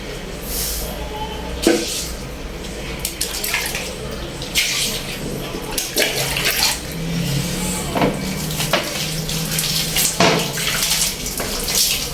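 Water runs and splashes while a toilet is being cleaned, a continuous wash of flow with intermittent sharper splashes and knocks, a few faint low tones, and no clear talking.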